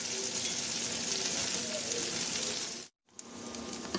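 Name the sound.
onion and green chili frying in oil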